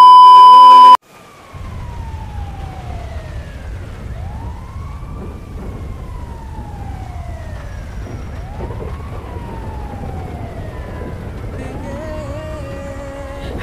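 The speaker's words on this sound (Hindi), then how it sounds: "जल्दी एम्बुलेंस बुलाओ" An ambulance siren in the GTA 5 video game wails loudly and continuously in rising and falling sweeps after a sharp tone at the start, with engine rumble underneath.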